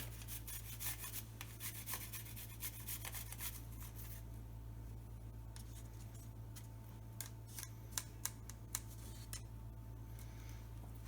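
Ginger being grated on a smaller grater blade, a quiet, steady scraping rasp with a few sharp clicks near the end.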